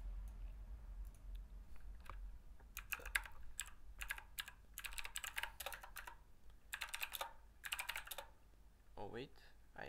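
A password being typed on a computer keyboard: quick, fairly faint bursts of keystrokes with short pauses between them, close up in a quiet room.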